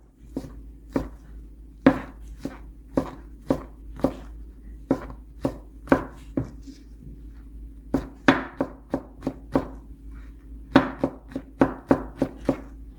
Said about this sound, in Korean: 표고버섯 두 개 이대로 썰면 너무 두꺼우니까 이렇게 약간 포를 뜨다시피 해서